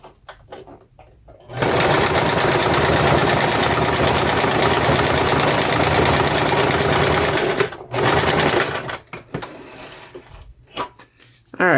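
A sewing machine stitches through a junk journal, a loud, rapid, even mechanical hum that runs for about six seconds, pauses briefly, resumes, then stops into quiet handling noises.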